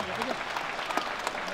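Crowd applause at a traditional wrestling event in Kahramanmaraş, Turkey, a steady wash of clapping throughout with a few sharper claps standing out, heard under a speaking voice.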